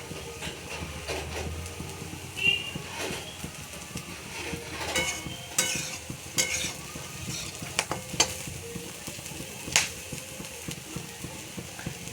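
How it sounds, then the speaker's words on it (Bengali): Food nearly done frying in a pan gives a steady hiss and crackle, broken by occasional louder pops and stirring scrapes, heard close and alone throughout. "দেখো, প্রায় ভাজা হয়ে গেছে, আর অল্প একটু হবে, তারপরে নামিয়ে দেবো"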